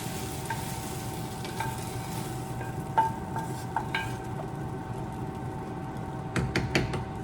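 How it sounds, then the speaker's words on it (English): Okra is added and stirred into a simmering gumbo, giving a soft steady sizzle broken by scattered light clinks and scrapes of a utensil against the pot, with no talking. "I'm going to add the okra to the soup,"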